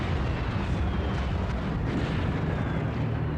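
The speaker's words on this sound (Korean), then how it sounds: "2월 15일 이른 아침 수백 대 B-17 폭격기가 수도원에 350톤의 폭탄을 떨어뜨렸다." Dense, continuous roar of bombs from B-17 bombers exploding on a monastery, a loud, unbroken rumbling barrage with no distinct separate blasts.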